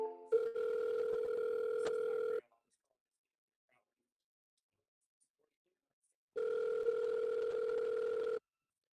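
An outgoing phone call rings: two long, steady electronic ringback tones of about two seconds each, separated by a silent gap of several seconds, clear and close with no voices over them.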